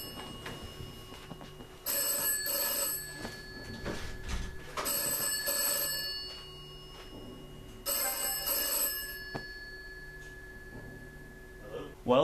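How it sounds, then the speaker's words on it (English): A telephone rings in a Battlefield: Bad Company 2 gaming session, with three loud ring bursts spaced several seconds apart and quieter gaps between them. "Hold on, my phone's going off."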